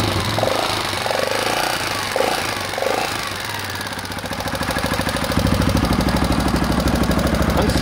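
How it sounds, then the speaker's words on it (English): A restored Honda XL250S motorcycle engine runs nearby, starting with a lumpy uneven idle and then settling into a steady, louder chugging beat after a few seconds, with no talking. "They're not a silent, completely silent engine"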